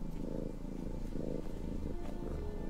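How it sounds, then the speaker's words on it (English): A cat in the animated film Shrek 2 purrs in a low, steady, rumbling rhythm of pulsing breaths, close and continuous for a few seconds with no talking. "Wait, purring? It's a cat? Donkeys don't purr."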